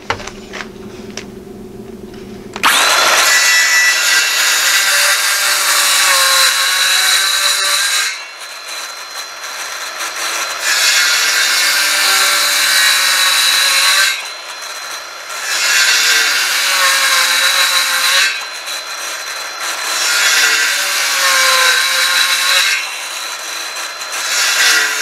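A cutting tool makes a series of passes through a wooden workpiece, grooving it for a later chisel clean-up. Loud rasping cuts of several seconds each are separated by brief quieter pauses.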